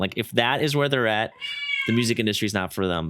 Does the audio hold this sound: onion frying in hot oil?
no